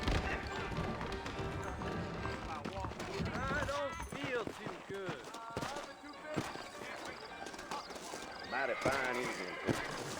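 Horse hooves clip-clop in Red Dead Redemption, a steady rhythmic trot of hoofbeats heard close under a voice talking over most of the stretch.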